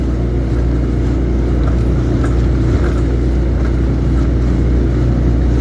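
A boat driven by a Suzuki 15 horsepower outboard motor runs with a loud, steady, close engine drone mixed with wind and water rush, continuous throughout.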